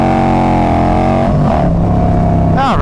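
A Harley-Davidson Road Glide motorcycle with carbon fiber wheels revs hard in second gear, its loud deep engine drone rising in pitch, with wind rush and a brief voice underneath, close to the rider.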